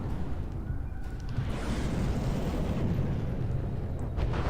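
A missile blast in the naval combat game From the Depths, a deep rumbling boom that rolls on as a steady low roar, moderately loud, with no voices.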